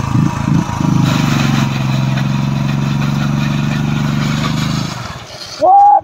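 Yamaha MT-15 and Royal Enfield Bullet 350 motorcycles in a drag race give a loud, steady engine roar close by for about five seconds. It cuts off abruptly, followed by a brief voice.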